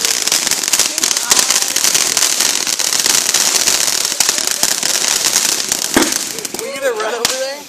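Fireworks display at a family backyard show, with dense continuous crackling and popping throughout and a few sharper bangs, while people talk over it and whistling rises near the end.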